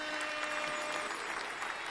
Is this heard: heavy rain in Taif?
no